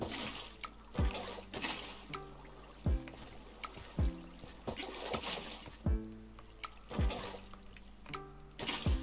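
Water being scooped and poured from buckets in the Minecraft video game, a series of quick splashing pours repeating roughly every second, fairly loud and close with no voices.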